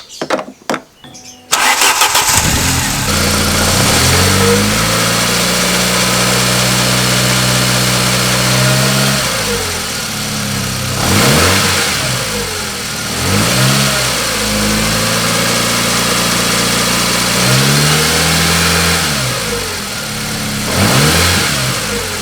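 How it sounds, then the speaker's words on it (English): A Ford Bantam 1.3 ROCAM engine with a suspected head gasket fault cranks briefly, catches and settles into a steady idle, then is revved several times in smooth rising and falling swells, close up with no talking. "I'm going to start the engine up and see if we can see any bubbles in the coolant tank."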